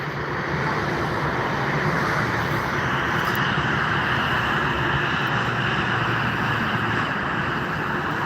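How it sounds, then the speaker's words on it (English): An Air Algeria Boeing 737 taxis at Frankfurt Airport, its engines giving a steady, moderately distant jet whine and rumble that holds constant throughout. "Air Algeria is Boeing 737 is taxiing"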